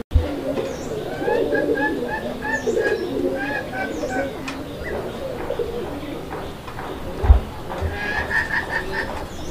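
Local Bengali pigeon breeds such as chila and bombai coo repeatedly at close range, with soft throaty calls overlapping in a steady stream and a few sharp knocks among them.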